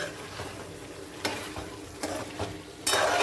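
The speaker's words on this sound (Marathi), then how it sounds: "आता थोडं हलवून घेते" A spoon stirs mutton with ginger garlic paste in a sizzling pan. A steady low fry sits under scattered scraping strokes, and a louder burst comes at the end. It is close and quiet, with no speech.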